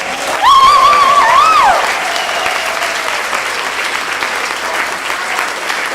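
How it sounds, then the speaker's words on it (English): An audience bursts into sustained applause for Jamie Eckert at a pageant, with a bright whistle rising over the clapping early on before the crowd settles into an even, continuous patter. "One more big round of applause for Jamie Eckert"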